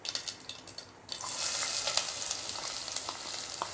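Mustard seeds pop in hot oil with a few sharp crackles, then chopped onion goes into the pan and a loud, continuous sizzle takes over, with scattered pops through the frying.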